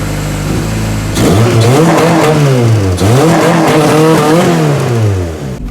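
A cheap tow-yard Honda car doing a burnout, its engine revving hard through several rising and falling surges, loud and close, with tire noise and no talking.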